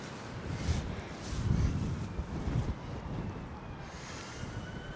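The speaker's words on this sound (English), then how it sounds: "So that shows how windy it is." Strong outdoor wind buffeting a microphone set on a tripod during a DJI Neo drone flight test, a steady roaring rumble with gusty low thumps throughout, no voices.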